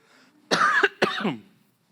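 Two sharp, close coughs in quick succession, forceful and raspy, with near silence before and after.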